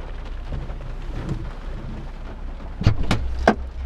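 Steady rain falling outdoors near a gas station, a constant patter with a few sharper close thumps and knocks toward the end.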